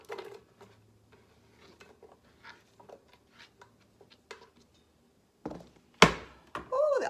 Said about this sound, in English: I need 1 1/4 cups of onion. So we're going to chop that up.